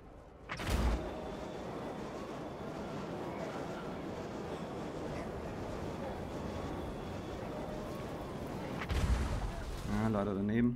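An artillery shot fires in the Total War: Warhammer strategy game as a sharp loud boom near the start, then a steady rumbling battle din, a second heavy blast near the end, and a brief voice at the close.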